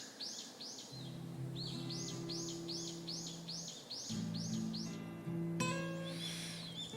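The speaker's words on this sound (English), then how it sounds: "The chirping of birds we heard through the window." Birds chirp in the early morning heard through a window, a clear repeating run of bright rising calls in a steady rhythm, accompanied by a low sustained tone and faint background chirps, quiet overall.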